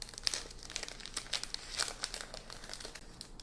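Crisp crinkling and rustling as an embossed vellum card is slid out of a paper envelope, a close, quiet run of irregular crackles and scrapes.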